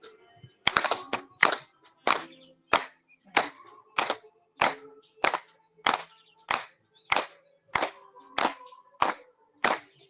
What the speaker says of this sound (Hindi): बजा लो ताली स्वागत में।